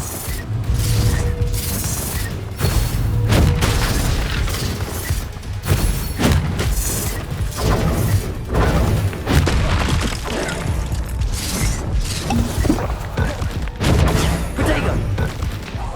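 Spell combat in Hogwarts Legacy produces a dense, continuous barrage of booming blasts, thuds and crashes, loud and close throughout with little pause between impacts.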